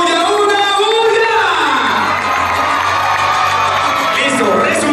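A live crowd watching a fire breather cheers, whoops and shouts loudly and continuously, children's voices among them, a dense, close wall of excited noise without a break.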